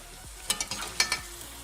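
Softened potatoes frying in a pan with a teaspoon of crushed red chili, stirred with a few sharp scraping clinks over a low, steady sizzle.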